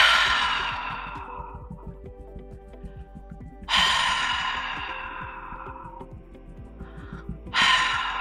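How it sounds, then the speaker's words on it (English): Three deep, throaty exhales during a guided breathing exercise, each a loud breathy rush forced from the throat that fades over a few seconds, spaced roughly four seconds apart with quiet pauses between. "try to breathe with kind of like a very throaty breath, like that from your throat"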